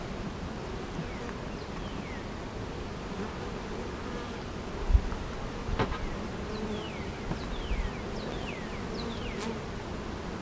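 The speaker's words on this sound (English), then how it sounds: "I actually have a very decent population of bees to see that many on a frame." Honeybees buzzing around a beehive frame during a hive inspection, a steady dense drone with individual bees zipping past close by and a few handling knocks.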